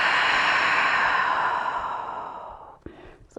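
A long, steady exhale during yoga breathing, close and audible as a soft airy rush that fades gradually, followed by a brief catch of breath near the end.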